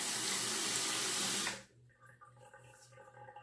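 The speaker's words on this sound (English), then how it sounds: "Let me wet the razor." Tap water runs loudly into a sink to wet a Gillette Tech safety razor, a steady hiss that stops abruptly partway through, leaving faint dripping and small bathroom sounds.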